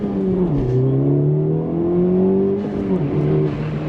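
A Honda Civic Type-R FL5 engine rises and falls in pitch from inside the cabin, a smooth droning tone that dips briefly twice as revs change, with no talking heard.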